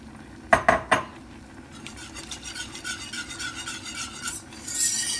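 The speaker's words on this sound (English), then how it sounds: "You want to whisk until it thickens like it has just now" A whisk works milk into a thickening cheese sauce for macaroni cheese. A few sharp metallic clinks against the pan come first, then a quieter, steady rhythmic scraping and swishing.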